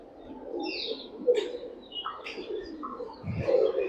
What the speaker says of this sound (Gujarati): નાની નાની કલર વાળી પક્ષી.